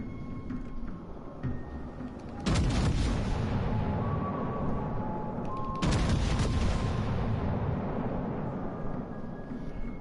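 Heavy naval gunfire from warships in World of Warships Legends: two big booming salvos roar out and rumble on over a continuous game soundscape, with no voices.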